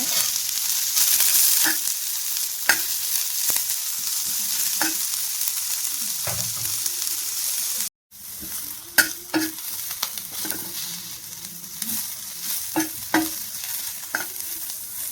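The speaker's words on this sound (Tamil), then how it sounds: "வெங்காயத்தை போட்டு லேசாக வதக்கிக்கோங்க" Sliced onions sauté in a little oil on a dosa griddle, giving a loud, constant sizzle. A spatula scrapes and taps now and then, and after a brief dropout the stirring picks up again with more frequent strokes.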